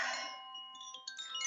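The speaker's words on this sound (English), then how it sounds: "Oh, let's do the chimes." Chimes rung during a calming breathing moment in a crystal and oracle session: a bright cluster of metallic tones struck together, then softer scattered notes ringing out and fading, close and clear with no talking.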